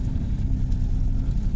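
A Daihatsu Ceria hatchback cruising at about 60 km/h, a steady low engine and road drone filling the cabin without pause, with no voices over it.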